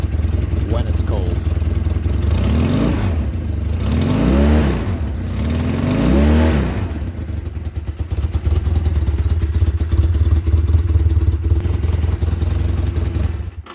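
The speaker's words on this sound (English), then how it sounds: "Once the bike is warm, it runs a lot happier and will rev all you want it to." A 1985 Honda Rebel 250 motorcycle engine, warmed up after a cold start, revs in three rising-and-falling bursts over a steady idle, then settles into a rougher running drone; engine fairly close and loud, with no talk.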